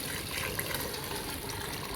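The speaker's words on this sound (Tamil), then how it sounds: "இப்போ என்ன சேர்த்து போகிறோம்னா கரைச்சி வச்ச புளி தண்ணி சேர்த்துக்கலாம்." Soaked tamarind water is poured into a simmering sardine curry, making a steady, soft gushing splash that holds level for a couple of seconds with no talking.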